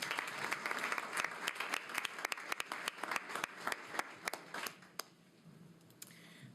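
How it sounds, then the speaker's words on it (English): A sparse group at a school board meeting claps for music students, scattered individual claps ringing out fairly close over a soft bed of applause that thins out after about five seconds. "another round of applause"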